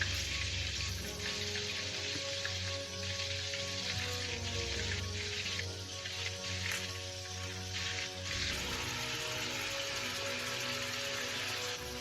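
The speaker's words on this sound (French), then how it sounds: "Donc, on va chauffer. Je vais mettre le morue." Cod sizzles steadily in hot oil in a frying pan, a dense, even crackle holding close and loud for the whole stretch with no voices over it.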